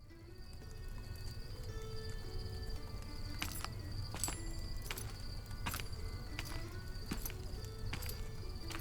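Hooves clop in a slow, regular rhythm, faint and a bit distant, over a steady hum of insects.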